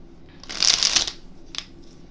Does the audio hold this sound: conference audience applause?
no